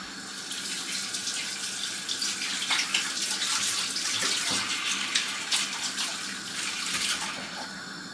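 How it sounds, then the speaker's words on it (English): Tap water runs steadily into a sink while hands are washed under it, a continuous splashing stream with bursts of louder spatter, close up and with no one talking. "wash my hands"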